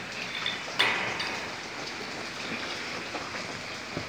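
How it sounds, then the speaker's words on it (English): Steady rain falls in a dark backyard at night, a constant broadband hiss with a few sharper drops and splashes, including one louder hit near the start; no one speaks. "But it is raining, guys."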